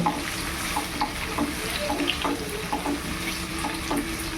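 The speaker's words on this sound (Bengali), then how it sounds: "বয়েল করা আলু। দিয়ে হালকা হাতে ভালো করে আলুগুলোকে আগে ভেজে নেব।" Boiled potatoes frying in oil in a pan, giving a steady close sizzle with gentle scraping and tapping from stirring at irregular intervals, with no voices.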